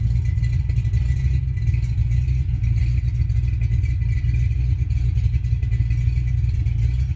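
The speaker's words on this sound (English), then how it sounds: "But we do got a one-wheel peel." A Ford Mustang Fox-body roller doing a one-wheel-peel burnout, its engine holding a loud, steady, low rumbling drone from start to finish, with no pauses and no distinct rev peaks.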